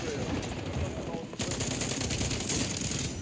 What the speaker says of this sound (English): I need covering fire.